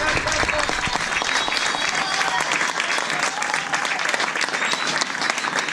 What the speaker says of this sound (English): Members of the Rotary Club of Canada, please stand up and take your applause